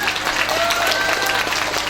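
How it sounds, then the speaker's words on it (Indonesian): Audience applause at a pengajian, an Islamic religious gathering, fills the whole stretch as a dense, steady wash of clapping with a few faint whistle-like tones riding over it. "Tepuk tangan dulu."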